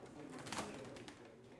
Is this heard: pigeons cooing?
yes